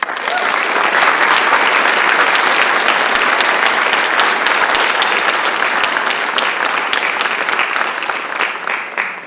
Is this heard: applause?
yes